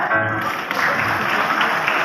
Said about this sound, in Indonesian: Kalau Onti bilang Natal sudah tiba, tepuk tangannya